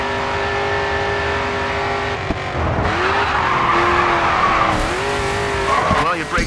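Race car in the GRID 2 video game braking hard into a turn, tires squealing in long wavering skids over the engine drone, with a second screech near the end.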